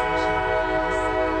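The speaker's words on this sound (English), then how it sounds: "And hey, the train's here, great." A loud, steady train horn blares close by with the rumble of the train passing underneath, sustained without a break.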